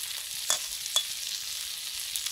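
Onion and chopped green chili frying in a pan, a faint steady sizzle with two brief stirring scrapes, no talk.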